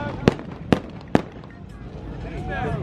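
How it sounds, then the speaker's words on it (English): Gunshots ring out outdoors during a riot: three sharp, fairly distant bangs at even intervals, followed by muffled outdoor background noise. "my man shooting gunshots"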